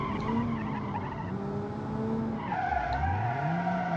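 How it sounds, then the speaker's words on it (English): A 300 HP lawnmower drifting in BeamNG.drive, its tires squealing in long sustained screeches over a droning engine, the pitch shifting and dropping midway as the slide changes, loud and close throughout. "it does understeer a little bit, and it does drift if you want"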